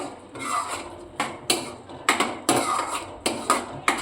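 A spoon stirs yogurt into gravy in a pan for shahi paneer, giving sharp metallic clinks and scrapes against the pan in an uneven rhythm, close and clear with no voices.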